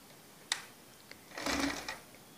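A sewing machine runs a short burst of stitching on a blouse, one close mechanical whir after a single sharp click, with nobody speaking.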